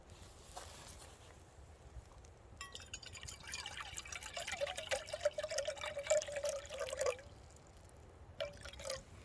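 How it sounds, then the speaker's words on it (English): Water boils in a pot on a camp stove during an overnight hike on the Ozark Trail, a soft bubbling hiss over the steady roar of the burner, with light clinks and taps nearby and no talking. "All right, water's boiling"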